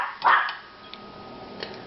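A house dog near a kitchen lets out a single clear bark, followed by a couple of faint small clicks and sounds in the quiet room.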